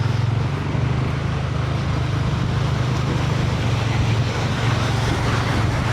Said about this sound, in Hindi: आसानी से बाइक जा रही है। पानी लेकिन थोड़ा तेज़ था, लेकिन हमने गुजार दी।